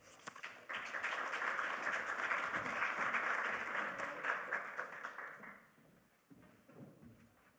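A lecture audience claps steadily to welcome an artist giving a guest faculty talk, a dense sustained applause from a seated crowd that carries on for several seconds before tapering off to a few scattered claps.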